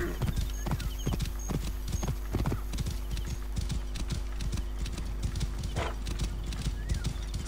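Hooves of a horse in Assassin's Creed Origins clop in a steady, rapid galloping rhythm, loud and close throughout, with a short whinny near the end and faint game ambience underneath.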